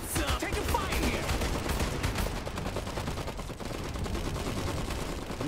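Gunfire from the strategy video game Iron Harvest, with dense, continuous bursts and crackling shots running throughout amid battle noise and game effects, loud and busy with no break.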